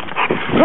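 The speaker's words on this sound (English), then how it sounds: "That's my dog." A pet dog whimpers and gives short yips close by, the high whiny cries rising near the end of the brief moment while someone speaks a word over it.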